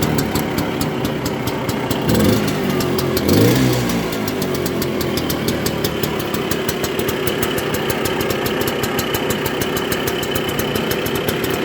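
A Lambretta LD150 scooter engine idles steadily up close, a loud, even putter with a rapid regular beat and a brief rise in revs partway through.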